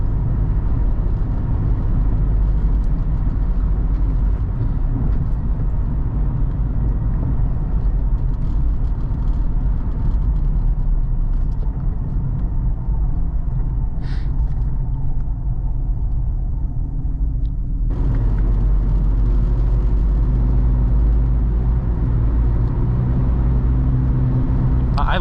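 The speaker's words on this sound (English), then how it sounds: "I love the sound of this engine, this 4-liter straight six." A deep, steady engine rumble from a 1997 Jeep Cherokee XJ's 4-liter straight-six with a Flowmaster muffler drones loudly throughout from inside the moving vehicle, its tone shifting slightly partway through, with no talking over it.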